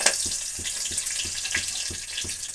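Hot oil sizzles steadily with a bright hiss as mustard seeds, cinnamon, cloves and curry leaves fry in a pan, a soft regular thumping running underneath.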